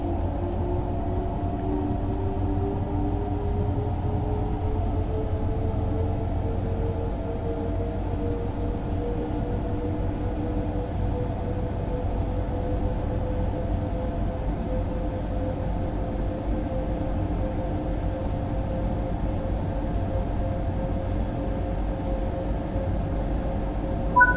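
German electric locomotive in Train Sim World 5 gathering speed, a steady low rumble with rising motor tones gliding upward, constant and moderately loud throughout with no talking.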